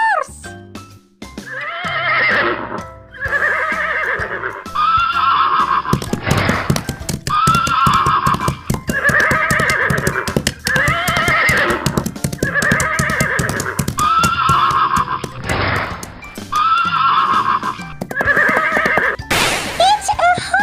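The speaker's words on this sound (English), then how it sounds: "It's a horse." A horse neighs and whinnies loudly several times in a row, with hooves clip-clopping in between, close and clear.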